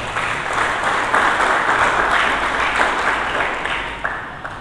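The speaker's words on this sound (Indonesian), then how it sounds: "Mari kita berikan tepuk tangan bagi Yesus." A church congregation breaks into sustained applause, a dense, loud wash of many hands clapping together that holds steady and tapers slightly toward the end.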